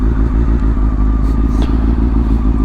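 A Honda CBR 600F4i sport motorcycle engine drones steadily up close, loud and continuous, with faint clatter and thumps from the ride.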